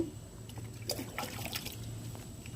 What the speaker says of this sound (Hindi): अब इसका वाटर ड्रेनेज देखिए कैसे हो रहा है।